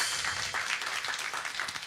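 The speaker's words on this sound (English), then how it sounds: "let's give Malachi a round of applause" Brief burst of audience applause at a Sunday church celebration, many hands clapping together in a dense, even patter that fills the whole short moment.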